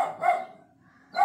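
A dog barks twice, a short sharp bark near the start and another about a second later, with a quiet gap between them.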